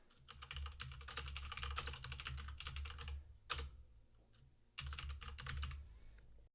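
Rapid bursts of close computer keyboard typing as a panel title is entered, two stretches of quick key clatter separated by a short pause with a single sharp click.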